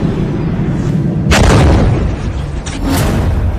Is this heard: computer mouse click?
no